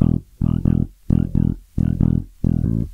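A bass guitar plays a shuffle rhythm, with evenly spaced pairs of long and short notes in a steady, loud loop, close and alone.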